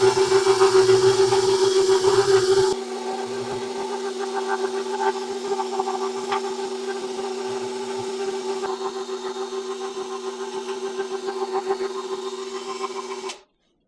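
Electric meat grinder working through chilled meat for Texas hot link sausage, a steady mechanical motor hum with a louder start that settles into an even whir, running alone until it cuts off at the end.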